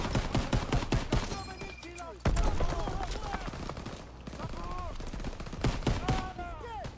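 Gunfire in Call of Duty WW2 during a D-Day assault on hardened difficulty: repeated rifle and machine-gun bursts, with a heavy boom partway through, mixed under a player's talk.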